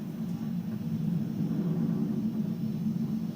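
A SpaceX Falcon 9 rocket roars in flight just past Mach 1, a steady, distant low rumble with broadband hiss and no talk over it.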